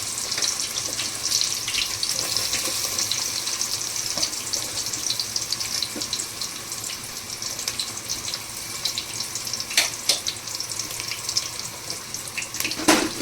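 Onions and whole spices fry hard in oil for prawn biryani, a loud steady hiss and sizzle close by that runs throughout with a few sharper crackles, no voices.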